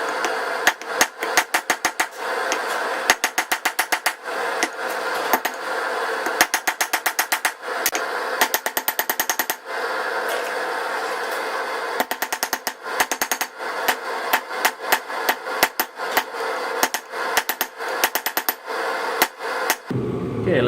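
Hammer blows ring out in fast rhythmic bursts as 5160 coil spring steel is forged into a slot punch, loud and close, with brief pauses between runs of strikes and no voices.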